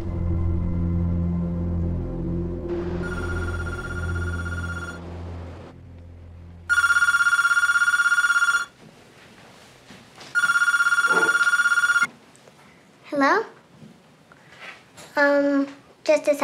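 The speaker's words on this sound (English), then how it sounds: "Phone!" Telephone bell ringing in a movie scene, two long loud rings separated by a pause, after a low sustained musical tone fades, followed by brief voices.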